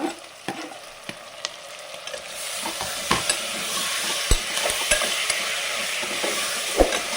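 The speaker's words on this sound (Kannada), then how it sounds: "ನೋಡಿ, ಈರುಳ್ಳಿ, ಕ್ಯಾಪ್ಸಿಕಮ್ ಸ್ವಲ್ಪ ಫ್ರೈ ಆಗಿದೆ. ಟೊಮೊಟೊ ಹಾಕೋಣ." Onion, capsicum, curry leaves and green chilli sizzling and frying in a pan for broken-wheat upma, a steady crackle with occasional sharp scrapes and taps of a stirring spoon against the pan.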